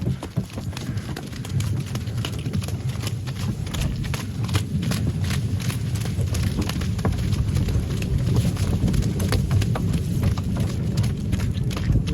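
Hooves clip-clop steadily on a hard surface as a harnessed mare walks at an even pace pulling a cart for the first time, with a constant low rumble underneath.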